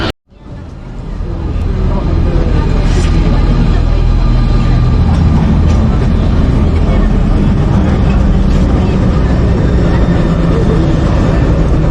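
A Paris Metro train rides between stations with a loud, steady rumble and roar of wheels and motors that builds within the first second and holds close and constant throughout.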